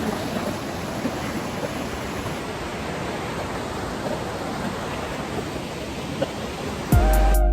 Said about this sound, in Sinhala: මේ වෝටර්ෆෝල් එකෙන්ම එන ගඟ උඩින් තමයි මේ පාලම යන්නේ.